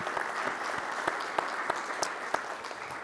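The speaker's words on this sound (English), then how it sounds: "So how about a big round of applause for P&G, Starbucks, and Estee Lauder for their great work." An audience at a corporate presentation applauds, a steady, moderately quiet patter of many hands clapping with a few sharper claps standing out, no voices.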